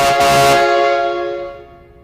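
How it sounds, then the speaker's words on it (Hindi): A very loud, sustained blast of a real multi-tone train horn mounted on a bicycle sounds up close, holding steady before slowly dying away. "इस साइकिल में एक असली ट्रेन हॉर्न लगा हुआ है"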